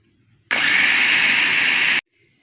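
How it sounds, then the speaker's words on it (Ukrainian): A blender purées cooked cabbage, whirring loudly at high speed for about a second and a half, starting and stopping abruptly, with quiet surroundings before and after. "я її помістила в чашу блендера і буду збивати до однорідної маси"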